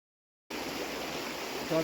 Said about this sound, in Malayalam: കക്കയത്ത് വൈദ്യുതി ഉൽപ്പാദിപ്പിച്ചിട്ട് ഒഴുകി വരുന്ന വെള്ളമാണ് ഇത്